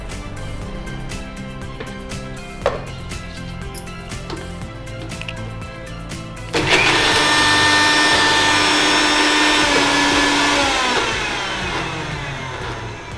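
A mixer grinder whirs loudly and steadily as it grinds roasted gram chutney with salt and a little water, starting abruptly after quieter kitchen clatter and running to the end with a slight easing near the finish.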